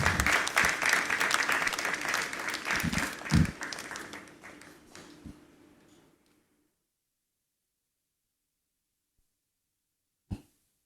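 An awards ceremony audience in Ghana applauds with steady clapping that gradually thins out and fades to silence, followed by a single faint knock.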